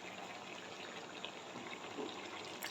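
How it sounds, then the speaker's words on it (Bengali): Water is poured into a pan of simmering mustard prawn curry with potato, eggplant and bori, a faint, steady trickling gush running throughout. "খানিকটা জল দিয়ে দিচ্ছি।"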